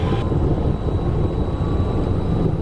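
Cessna Citation jet engines on the takeoff roll, a loud, steady broadband roar with a faint tonal whine, continuous and close throughout with no talk.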